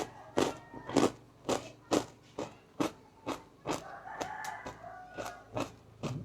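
Crunching bites into a crispy pork skin snack, crunchy outside with a soft piece inside, come as a steady series of sharp, close crunches roughly every half second, with no talking.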